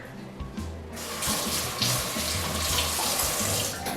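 Water runs steadily from a kitchen sink tap while a thermometer is rinsed clean during homemade ricotta cheese making, a continuous close splashing flow that swells after the first second and holds without talk.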